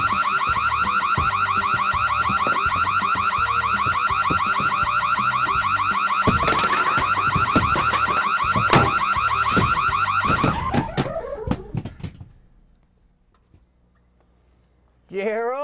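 A loud car alarm cycles through its warbling electronic tones for about ten seconds, then cuts off into near silence before a sudden burst of noise.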